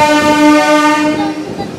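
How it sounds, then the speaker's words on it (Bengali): An Indian local train leaving Barrackpore station bound for Kolkata sounds a loud, sustained horn blast, close and tonal, lasting under two seconds. "এই মাত্র ট্রেন ছেড়ে দিল।"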